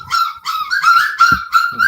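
Several puppies bark, yip and whimper in quick overlapping bursts close by, high-pitched and continuous across the moment.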